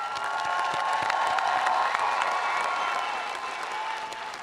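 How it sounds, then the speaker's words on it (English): A large crowd at a university commencement ceremony claps and cheers steadily, with dense, continuous applause and scattered whoops filling a big space and tapering slightly toward the end. "Let's cheer on these graduates and congratulate them for all the hard work they had."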